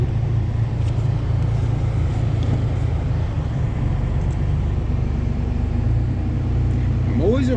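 A cold vehicle engine idles steadily right after starting in freezing weather, a continuous low rumble close to the microphone with wind noise, and a brief voice near the end.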